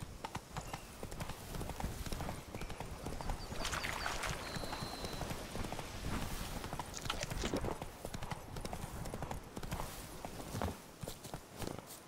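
The horse Roach galloping in The Witcher 3, quick rhythmic hoofbeats pounding steadily and close, with brief whinny-like accents and scattered game effects.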